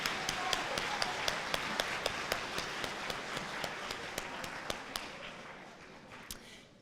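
A high school audience at a Military Appreciation Day event applauds the Encore Choir, a broad wash of clapping with sharp, evenly spaced claps punctuating it, gradually thinning toward the end.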